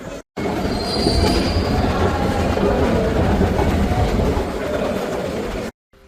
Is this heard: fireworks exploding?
no